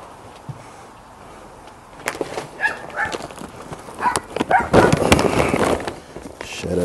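A dog barking outdoors during a backyard barbecue of St. Louis style ribs, with irregular barks mixed among clattering handling noises and a voice speaking nearby.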